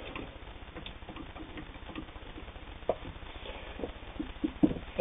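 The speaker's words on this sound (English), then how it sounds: "That's hand crank operated." A hand-cranked Singer 99 three-quarter-size sewing machine runs steadily close by, giving a fast, even mechanical patter of needle strokes with a few louder clicks near the end.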